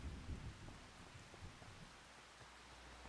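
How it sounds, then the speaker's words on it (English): Steady rain hisses in Farming Simulator 25, a dense even wash with a low rumble like distant thunder at the start, no voices present. "But it's raining."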